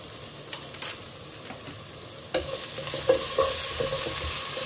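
Spinach and urad dal with salt and turmeric are stirred in a cooking pot, with a low steady sizzle broken by scattered scrapes and knocks of the spoon that grow busier and louder in the second half.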